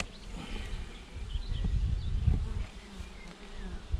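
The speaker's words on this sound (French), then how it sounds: "Alors ça c'est un essaim que j'ai nourri." Honeybee swarm that is being fed, buzzing inside a beehive during an apiary inspection: a dense, steady hum of many bees, close and continuous, with no talking.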